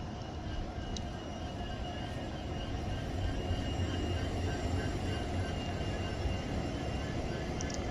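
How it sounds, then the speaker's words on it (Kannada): A train rolls into Kotturu railway station with a steady, loud rumble of wheels on rails that holds constant throughout, broken by faint high squeals near the start and end. "ನಮ್ಮ ಟ್ರೈನ್ ಈಗ ಎಂಟ್ರಿ ಆಗ್ತಿದೆ ಕೊಟ್ಟೂರು ರೈಲ್ವೆ ಸ್ಟೇಷನ್ಗೆ"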